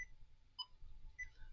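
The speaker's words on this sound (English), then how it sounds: "Starting the metronome and the timer." Quiet electronic beeps from a metronome and timer being started come as a few brief high chirps spaced roughly half a second apart over faint low room noise, used while practising ukulele chord changes.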